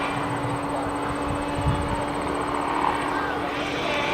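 Radio-controlled scale model jet flies at an outdoor club fun-fly event, a steady whooshing turbine drone with a high whine, moderately distant and sustained, over faint background chatter.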